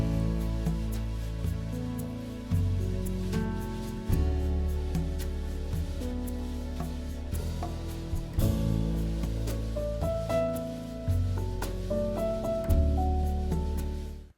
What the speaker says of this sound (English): a sort of swirly brush vibe on the snare drum